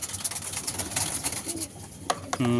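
Pigeons coo softly amid a busy, noisy background at a loft during feeding, with low rumbling calls repeating throughout and a sharper tone near the end.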